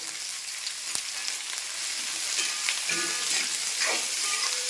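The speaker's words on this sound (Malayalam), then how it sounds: "നമ്മുടെ സവാളയൊക്കെ ഇതാണ്ട് ഒരു പകുതി വഴന്ന് വന്നിട്ടുണ്ട്" Onions fry with salt in a pan for chicken perattu, giving a bright steady sizzle close by with a few scraping stirs toward the end and no talking.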